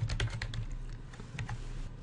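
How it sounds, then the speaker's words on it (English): Quick bursts of typing on a computer keyboard while entering a group name in reference software, soft close key taps with a low steady hum underneath. "and type Landsat."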